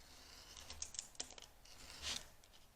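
Scissors cutting into a paper pocket, a few quiet crisp snips and blade clicks close by, followed by a softer rustling slide of paper, with no voices.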